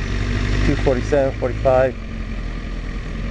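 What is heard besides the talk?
motorcycle engine idling in stop-and-go traffic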